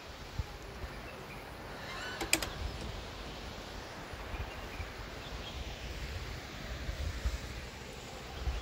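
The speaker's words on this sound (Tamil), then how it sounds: "ஆனால் வந்து சில்லுன்னு காற்று அடிச்சுக்கிட்டே இருக்குது." Cool wind blowing steadily at a resort in Poombarai, Kodaikanal, a constant soft rushing hiss with light buffeting and a brief faint chirp, no talk.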